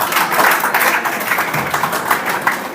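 Applause from a school audience at a farewell day speech, a dense steady patter of many hands clapping throughout, moderately loud and close.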